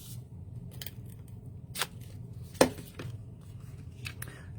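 Cardstock being trimmed for a handmade card: a few sharp, brief cutting snips and clicks spaced apart over a low steady background hum, close and fairly quiet.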